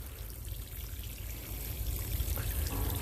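A steady pour of water mixed with natural fertilizer into an 18-gallon self-watering tote, a continuous soft trickling stream up close that swells slightly toward the end, with no voices.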